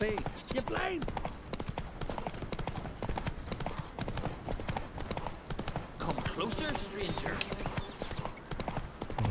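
Steady clip-clop of horse hooves at a trotting rhythm in The Witcher 3: Wild Hunt, with someone talking over it and busy game-like background sounds.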